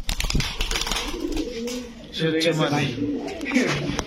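Lavender chandan pigeon cooing in repeated soft, rolling phrases close by, with people talking over and around the calls.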